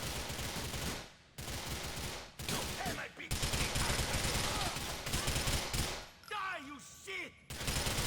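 Gunfire in the video game GTA IV, several loud bursts of shots with short silent breaks between them, mixed with game effects and some voice-like sounds toward the end.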